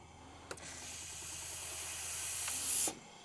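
Steam wand on a Maxim's De Paris La Seine X espresso machine letting out a loud, steady hiss that swells for nearly three seconds, then cuts off abruptly after a faint click.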